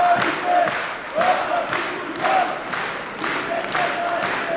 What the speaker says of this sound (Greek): Εν μέσω χειροκροτημάτων